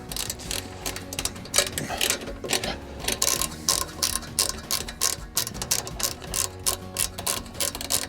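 Ratchet wrench tightening bolts on a Bramblecrest Amsterdam two-seat sofa frame during assembly, a steady run of quick clicking pawl ticks in repeated bursts, close and moderately loud with no talking.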